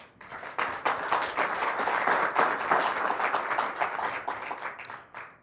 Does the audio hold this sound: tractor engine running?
no